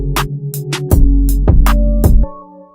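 A punchy electronic beat with booming low bass, sharp claps and crisp snare hits interlocking in a bouncy rhythm.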